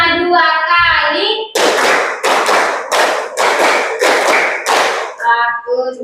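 Children clap together in a rhythmic classroom exercise, six sharp bursts of hand claps in a steady pattern, with a teacher's voice speaking before and after the clapping.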